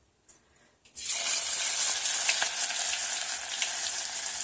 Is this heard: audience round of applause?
no